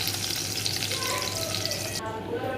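Browned pointed gourd (parwal) pieces frying in oil in a pan give a steady, close, dense sizzle that runs unbroken through the whole short stretch.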